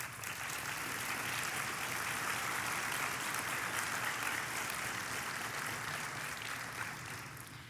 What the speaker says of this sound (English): Please stand up so we can give you applause.